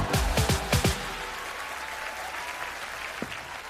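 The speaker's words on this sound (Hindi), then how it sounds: "सलमान भाई के लिए एक बार जोरदार तालियां हो जाए।" Studio audience applause on a comedy talk show stage, a burst of loud clapping with a few sharp hand claps up front, then settling into steady sustained applause from the crowd.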